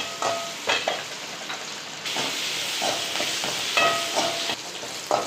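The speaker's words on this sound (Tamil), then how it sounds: "வெங்காயம் வதங்கிடும் நல்லா" Onions with salt frying in a pan, a continuous close sizzle broken by repeated stirring scrapes and clinks of a spoon against the pan.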